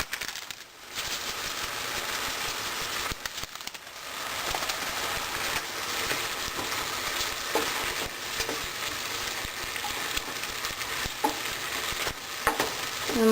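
Shrimp and tomatoes cook with salt and Italian seasoning in a pan. A steady, bubbly sizzle runs throughout, punctuated by repeated utensil scrapes and stirring clatter.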